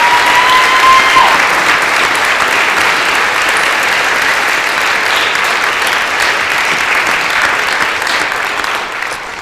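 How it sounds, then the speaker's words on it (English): Loud, sustained applause from a large audience honoring an event organizer and sponsors, a dense continuous wash of clapping that holds for the whole stretch, with a brief whistle near the start. "Let's give Annie and all of our sponsors a nice round of applause"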